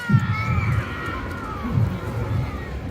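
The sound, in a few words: children imitating monster noises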